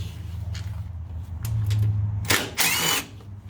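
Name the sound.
power drill removing screws from mower plastic cover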